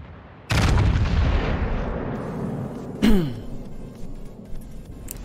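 Battleship main guns fire in a naval warfare video game. A sudden loud salvo rings out with a long rumbling decay, and a second sharp blast follows a few seconds later, with smaller thuds trailing behind.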